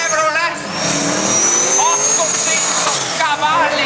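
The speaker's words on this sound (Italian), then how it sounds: "Fanny Open, con Sartori, questa Nissan Silvia motorizzata Chevrolet," A Nissan Silvia drift car fitted with a supercharged Chevrolet engine of around 800 horsepower revs hard at a motor show drifting event, loud rising and falling engine howls and tire noise close by, with a commentator talking over it.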